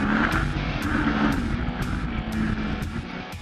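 An off-road racing motorcycle at full throttle in the Mexican 1000 desert race blares as a loud, continuous engine roar, with rhythmic bumps and surges roughly every half second as it pounds over rough terrain.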